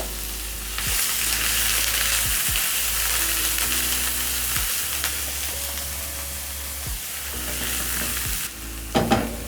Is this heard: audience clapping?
no